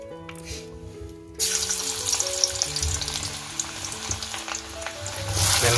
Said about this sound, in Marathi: इथे आई टाकते लसणाच्या पाकळ्या